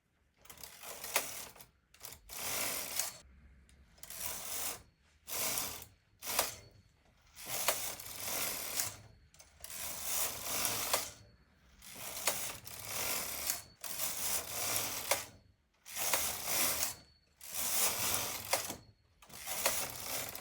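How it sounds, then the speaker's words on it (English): A domestic knitting machine carriage is pushed back and forth across the needle bed to knit rows, each pass a loud, close whirring and ratcheting mechanical run separated by short pauses, about a dozen passes in a steady rhythm. "I'm gonna just knit a couple of rows"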